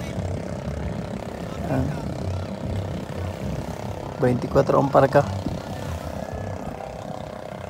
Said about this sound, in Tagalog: Makina naman yan mga plasbak. Low speed na 18 HP na Yamaha.